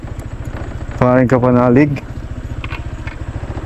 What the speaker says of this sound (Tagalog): Ayun na yung motor.